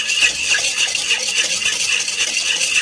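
Thickening béchamel sauce stirred in a pot for macaroni béchamel, a loud, close, rhythmic scraping swish repeating steadily with no voices.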